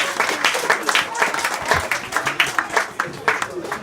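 An audience at a campground hypnosis show claps in quick bursts for a few seconds, fairly close and lively, with voices mixed in among the clapping.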